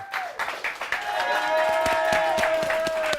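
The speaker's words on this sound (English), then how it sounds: "Round of applause." Brief burst of studio audience applause on a comedy sketch show, patchy clapping over a sustained musical tone and a rising background sound, lasting about three seconds.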